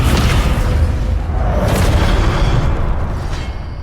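Descendo spell blast in Hogwarts Legacy, a deep booming burst that rumbles continuously under dense game combat noise for the whole stretch.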